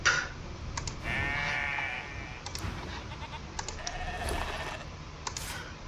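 A sheep bleats in a wavering, drawn-out call over light background noise in Divinity: Original Sin 2, followed by scattered clicks and a second faint bleat.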